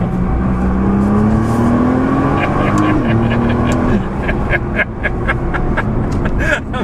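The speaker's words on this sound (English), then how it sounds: "Let me do a little paddle shift in here." A 2015 Nissan GT-R Nismo accelerates hard from inside the cabin, its engine note climbing steadily and then dropping sharply with a paddle shift before pulling again, loud and close, with voices faintly beneath.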